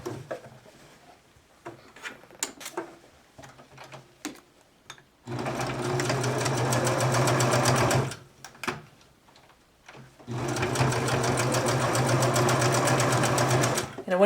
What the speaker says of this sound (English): I'm going to go ahead and sew this seam.